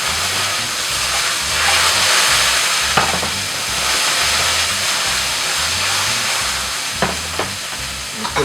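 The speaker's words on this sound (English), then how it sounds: "we fry the carrots. And the green peas." Carrots and green peas fry in oil for fried rice, giving a loud, steady sizzle and hiss throughout, broken by a few brief stirring clinks.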